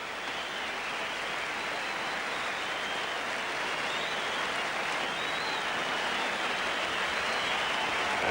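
A big crowd at a 1981 one-day cricket match applauding a batsman reaching fifty, a broad sustained wash of clapping heard from a distance and holding steady throughout.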